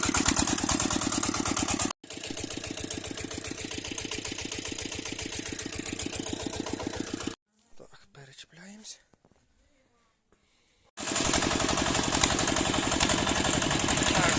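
A small farm tractor hauling a trailer during a potato harvest idles and revs in a loud, steady mid-pitched chug, cuts out into a quiet stretch with a few whispered words, then roars back at full volume.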